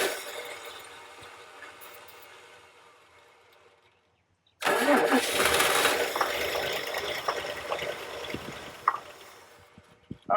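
Engine of an old camper truck cranks after a short silence, then catches and runs loud and close with a rough, uneven idle for several seconds, with no talk over it.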